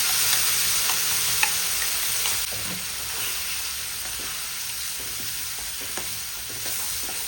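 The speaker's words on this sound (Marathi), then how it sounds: "मसाला चांगला मिक्स करायचा सर्व या तेलामध्ये, म्हणजे बघा व्यवस्थित फ्राय होता आपला मसाला" Ground masala spices fry in hot oil for a drumstick (shevga) pod curry, a steady close hiss of sizzling with occasional light clicks of stirring and no voices.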